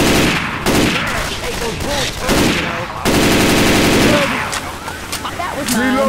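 Left 4 Dead 2 co-op zombie shooter gunfire: loud, rapid automatic bursts rattling almost continuously, broken by short gaps, with players shouting over the shooting.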